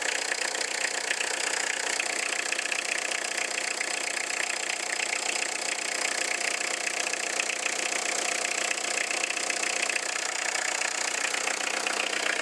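A Peugeot 306 1.9 diesel XUD engine idles on and on, an even mid-pitched rumble with a faint ticking knock running through it, close by with no voices.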